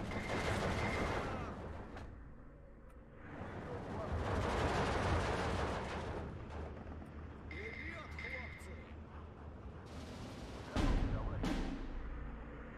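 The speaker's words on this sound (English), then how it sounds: "what we got to do here is just keep firing at it" Small-arms and machine-gun fire in the Steel Division 2 wartime strategy game, a steady wash of overlapping shots and bursts at moderate distance, with a sharper burst near the end.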